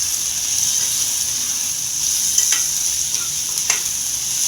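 Capsicum stirred into a pan of softened onion and tomato, frying with a steady close sizzle and hiss while a spoon scrapes through it, with a couple of brief sharper scrapes near the end.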